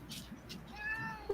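A person imitates a cat's meow, giving a short rising, tonal mew near the microphone. A soft click follows the mew.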